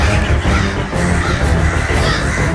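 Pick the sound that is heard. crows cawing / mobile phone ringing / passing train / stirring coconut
crows cawing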